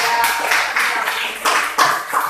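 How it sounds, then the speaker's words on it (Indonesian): Students in a classroom clap their hands together, a few loud, rhythmic bursts of clapping close by with short pauses between them. "kita tepuk tangan"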